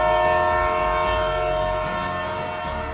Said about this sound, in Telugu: ట్రైన్ కదిలే టైం అయింది బావా